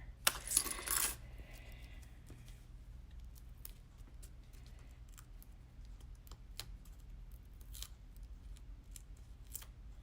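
Scissors trim off a piece, with a quick loud snip near the start followed by faint, scattered clicks and light handling in a quiet room.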